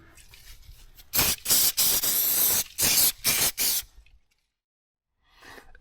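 Bursts of aerosol spray paint hiss onto brackets from an Audi RS4, several loud pulses in quick succession before the can stops and leaves near silence.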